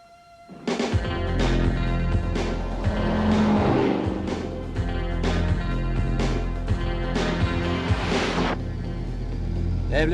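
A powerful car engine roars at speed, loud and sustained with a deep steady drone and harmonic whine, rising at the start and holding through with slight shifts in pitch.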